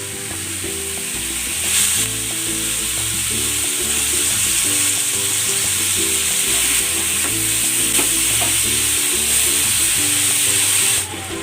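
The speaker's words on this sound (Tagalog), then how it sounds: "I-sear muna natin itong ating pork belly" Pork belly searing in a little cooking oil, a loud, steady sizzle and crackle of frying that holds for the whole stretch with no talk.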